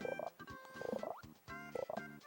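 A frog sound effect from the video game Super Mario World 2: Yoshi's Island plays during a speedrun event. Short croaking calls repeat three times over bright, tonal game music.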